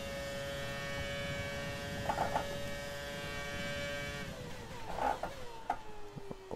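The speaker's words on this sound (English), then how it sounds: "You get a different sound in the engine" A 2010 Red Bull Formula One car engine, a V10 in the F1 2020 racing game, gives off a high, buzzing whine held at a steady pitch. It shifts and swells near the end, with faint background noise and no speech.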